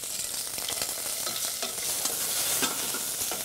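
Mediterranean squid searing over high heat in olive oil in a pan, a dense, loud, continuous sizzle with sharp crackles and pops throughout.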